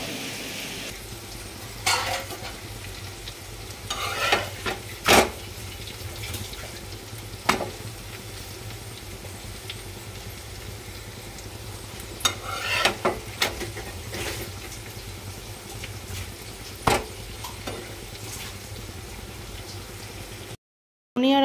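Eggplant slices frying in a home kitchen pan give a steady low sizzle, broken by several sharp clinks and scrapes of utensils, with no talk.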